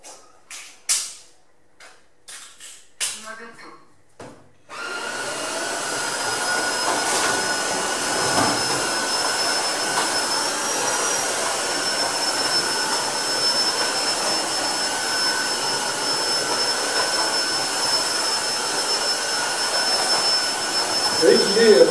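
A Tineco Floor One S3 cordless wet-dry vacuum cleaner runs with a loud, steady whine and whoosh for most of the stretch after a few brief knocks and clatters at the start, close to the microphone.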